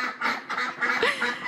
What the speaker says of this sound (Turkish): Ördeklerimi susturmaya çalışıyorum.